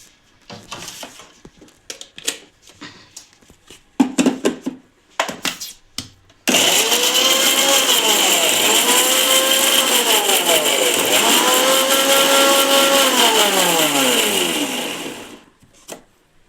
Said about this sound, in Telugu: మనం గ్రైండ్ చేసేసుకుందాం, ప్యూరీ చేసుకుందాం, టొమాటో ప్యూరీ